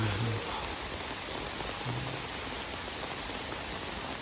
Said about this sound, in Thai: บรรยากาศกับฝนตกฝนตก